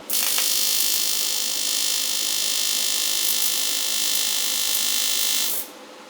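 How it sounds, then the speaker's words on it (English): An aluminium test piece being TIG welded makes a steady, loud electrical buzz with a harsh hum that holds evenly for about five seconds, then cuts off sharply. "I think I'm just gonna try welding it and see what happens, just as a test piece."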